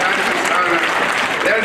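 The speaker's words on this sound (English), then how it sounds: "Let's give our Governor of Mombasa a bigger clap." A crowd applauds steadily at a public event where the Governor of Mombasa is honoured, the dense clapping filling the whole moment with no pause.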